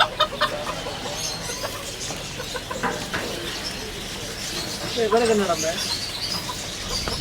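Various breeds of chickens cluck and call around a farm in Batticaloa, with scattered squawks rising over steady background noise while people talk nearby.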